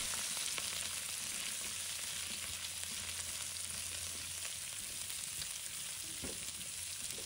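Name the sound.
stir-frying vegetable stems in a wok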